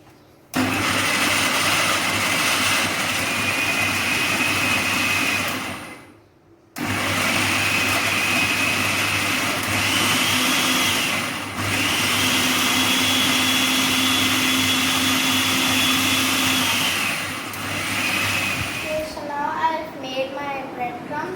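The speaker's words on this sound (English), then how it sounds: "Just put all your breadcrumbs in the chopper. I'm going to lock it." A food chopper chopping breadcrumbs whirs loudly and steadily in long motor bursts, pausing briefly between runs, with someone speaking near the end.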